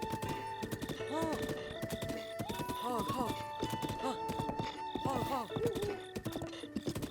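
Horse hooves clip-clop at a brisk, uneven gait in Zelda Breath of the Wild, close and clear, with a whinny and game music playing alongside.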